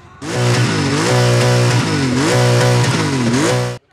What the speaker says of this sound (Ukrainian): Ревіння двигунів, гучна рок-музика та веселощі